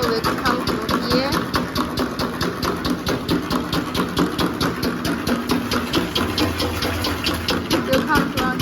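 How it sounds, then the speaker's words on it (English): The pump of a 300L perfume making machine runs with a steady mechanical hum and a rhythmic pulsing throb, loud and close. A person talks over it. "Turn on this pump switch. Then the material will come through here."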